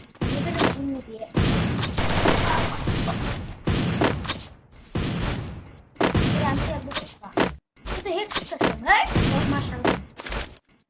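Gunfire in a shooting video game, dense bursts of rapid shots and thuds in clusters with short gaps, loud and close, with a voice talking at times.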